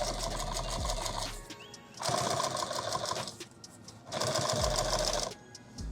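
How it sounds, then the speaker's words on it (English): A sewing machine runs a stitch line along the seam of a bag in three bursts of rapid, whirring stitching, loud and close, separated by short pauses. "I'm going to run a stitch line just inside that stitch"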